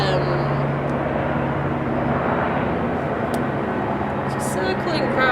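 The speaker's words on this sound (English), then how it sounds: "hello again helicopter" A loud helicopter roars steadily overhead, rumbling continuously through the whole stretch, with a voice talking beneath it.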